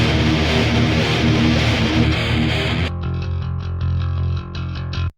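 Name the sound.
distorted electric bass guitar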